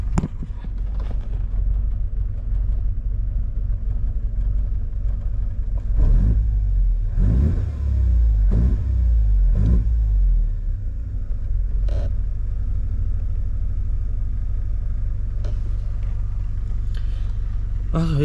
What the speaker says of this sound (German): So, Leerlauf ist ein bisschen unruhig.